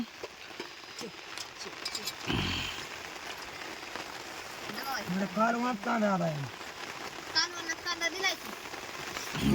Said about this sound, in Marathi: बाहेर पाऊस चालू असल्यामुळं